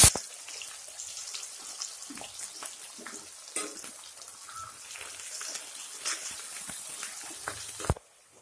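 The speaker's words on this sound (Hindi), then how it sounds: "इसमें डालेंगे जीरा कटी हुई प्याज" Cumin seeds and chopped onion sizzle in a hot pan, a steady soft crackle with occasional stirring clicks, fairly quiet and alone, ending abruptly.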